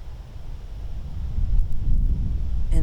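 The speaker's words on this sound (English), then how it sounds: "It's very windy here." Strong wind buffets the microphone on an open golf course during a rainy high school match, a steady low rumble that swells and gusts throughout, with no voices.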